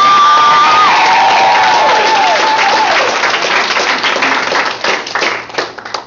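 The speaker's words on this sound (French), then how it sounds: "Mesdames et messieurs, une bonne main d'applaudissement pour Pascal Fréchette." Audience at a gala breaks into loud, sustained applause with scattered cheers and whoops, the clapping dense and close before gradually thinning toward the end.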